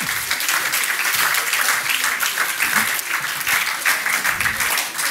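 Audience applause at a French science talk event as a chemist guest is invited onto the stage, steady dense clapping filling the whole stretch, fairly loud and continuous.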